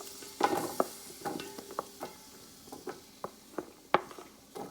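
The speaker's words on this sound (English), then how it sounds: "We're gonna saute our red onions." Red onions sauté in about a tablespoon of oil in a pan for fried rice, a soft sizzle broken by intermittent scraping stirs and light clicks of a utensil, fairly quiet and close.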